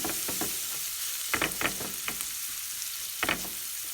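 Garlic fries in olive oil with a steady, fairly soft sizzle, broken by a few short scraping or stirring knocks at irregular moments.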